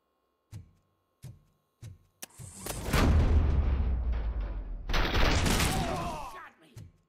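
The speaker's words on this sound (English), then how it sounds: "Am I hearing gunshots?" Three sharp single shots ring out, then a heavy barrage of booming gunfire and blasts rolls on, fading with one last crack.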